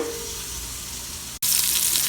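Sausage sizzles and fries in a pan for a jambalaya made in an Instant Pot, a steady close crackle broken by a short sharp cut, then louder, brighter sizzling.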